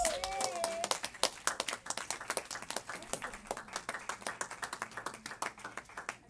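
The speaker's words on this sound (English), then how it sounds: "clap your hands to Jesus" Congregation clapping hands in church, a dense run of sharp claps over roughly six seconds, with a brief voice at the start and cheering mixed in.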